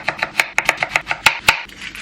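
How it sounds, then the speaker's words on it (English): A knife slicing a peeled red onion thinly on a cutting board, quick rhythmic crisp taps about every quarter second, close and clear with no voices. "I've got a red onion and I'm just going to peel this and slice it really thinly"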